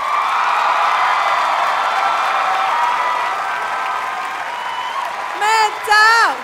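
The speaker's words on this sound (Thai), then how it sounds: "ขอเสียงปรบมือดังๆ" A television singing-competition crowd applauds and cheers in a steady, dense wash of clapping, then a loud voice breaks in near the end.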